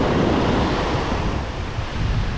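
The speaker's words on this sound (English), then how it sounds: "it's all just shore breakers crashing right in front of me here" Shore break waves crash and wash continuously onto a Southern California beach, a loud, dense roar of surf mixed with wind buffeting the microphone.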